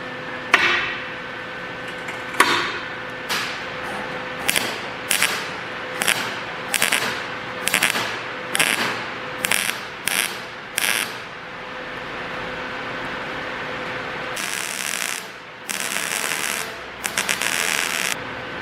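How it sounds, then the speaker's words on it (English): A metal welding cart is welded, with a series of short, evenly spaced crackling bursts followed by a few longer buzzing runs, close and fairly loud over a faint background hum. "I'm gonna finish welding this up"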